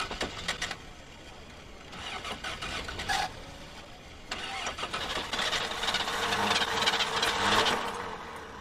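An old car engine cranks repeatedly without catching, with several separate starter bursts separated by pauses, then a longer, louder grinding attempt building toward the end, close and without speech.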